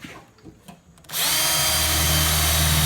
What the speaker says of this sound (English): All right, so now he's chucked it up in the drill.